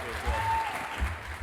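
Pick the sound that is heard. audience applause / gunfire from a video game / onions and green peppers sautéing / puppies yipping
audience applause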